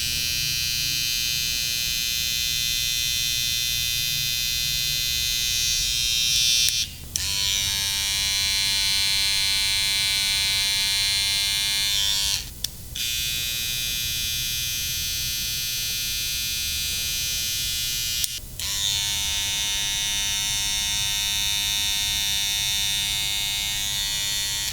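A Coco Velocity hair trimmer runs with a steady, loud, high-pitched electric buzz, switched off and on briefly three times so the drone drops out for an instant before resuming.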